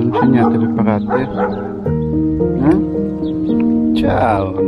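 A small dog barks in short yapping bursts outdoors on a rainy stretch of the Portuguese Camino de Santiago, close and fairly loud under a man's ongoing speech.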